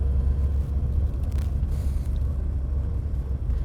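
Inside a roughly fifty-year-old Saab car with very high mileage, the engine hums in a deep, steady low rumble that fills the cabin continuously, with no talking.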